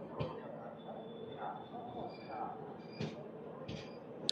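Express train 17221 from Kakinada Port to Mumbai LTT standing at Solapur railway station, a steady low rumble of carriages and platform noise running throughout, with someone talking over it.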